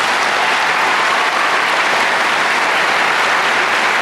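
Loud, sustained applause from a large audience at a high school graduation commencement as scholarship students are honored, a thick unbroken roar of clapping from start to finish.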